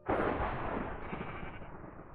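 Sheep bleat in the Minecraft video game, a single continuous bleat lasting about two seconds, loud and alone with no talk.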